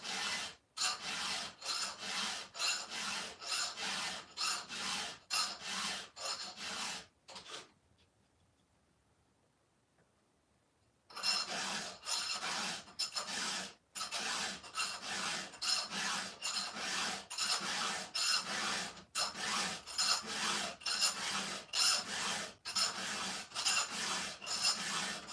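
A file rasps across chainsaw teeth in steady, rapid strokes, close and loud, sharpening the chain; a gap of near silence interrupts the strokes midway before the rhythmic filing resumes.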